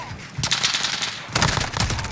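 An MP5 submachine gun fires in Call of Duty Modern Warfare, with two rapid bursts of close, loud automatic gunfire separated by a short pause.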